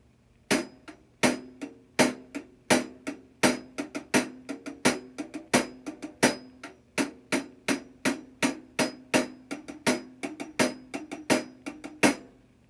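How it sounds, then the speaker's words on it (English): A closed hi-hat is struck on its edge in a steady rhythm, about three crisp metallic chicks per second, close and bright with short decays. "When you hit the edge of this hi hat, it's gonna sound something like this."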